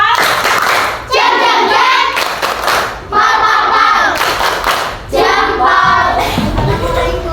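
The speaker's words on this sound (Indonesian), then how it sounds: "Beri tepuk jempol." A group claps together in several rhythmic bursts, roughly a second or two each, separated by brief pauses, with voices mixed in.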